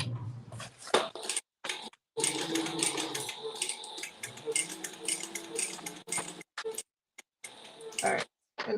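A sewing machine bastes a crossbody bag, its stitching in bursts of fast mechanical whirring broken by short pauses, close and moderately loud, with a voice speaking over parts of it.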